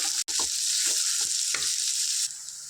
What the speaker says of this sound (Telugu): ఇవి ఇందులో వేసుకుంటాను దీన్ని చక్కగా ఫ్రై చేసుకుందాం ఆనియన్స్ మిర్చి